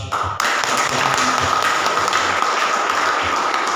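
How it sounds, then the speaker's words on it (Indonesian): A church congregation applauds steadily, a dense, sustained wash of clapping that begins abruptly after a brief moment and continues evenly throughout. "Dan mari kita berikan aplaus."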